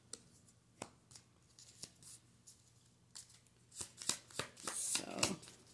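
Cards being handled, shuffled and flipped during a tarot-style card reading, with soft papery snaps and riffles close by, growing busier and denser toward the end, with no talk.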